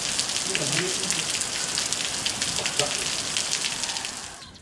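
Steady rain patters on a surface, a dense, even hiss with scattered drops, fading out at the very end.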